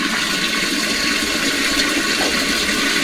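Tap water runs steadily and loudly while an ostrich leg is washed before cooking, a continuous rushing splash with no talk.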